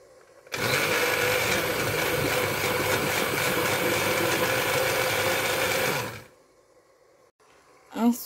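A blender whirs loudly and steadily for several seconds blending cooked tomatoes, then cuts off abruptly, leaving quiet with a faint knock at the end.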